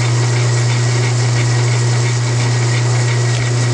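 A T5 manual transmission running in third gear gives off a loud, steady mechanical drone with a strong low hum and constant whine, unchanging throughout.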